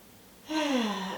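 A person draws a single audible breath during a Pilates exercise, a short close gasp-like inhale that starts suddenly after quiet and trails off.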